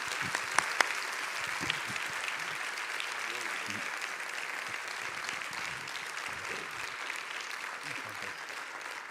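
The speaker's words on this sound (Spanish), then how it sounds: "un fuerte aplauso" Audience applause fills the room in steady, dense clapping for the whole stretch at moderate level, with no voices over it.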